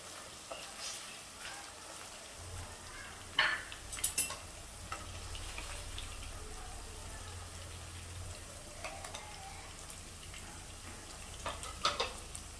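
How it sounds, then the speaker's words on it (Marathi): Paneer fries in hot oil with a low, steady sizzle, broken by a few sharp pops and light stirring clicks. "हलका कोट येईपर्यंत आपल्याला फ्राय करून घ्यायचं आहे हा पनीर"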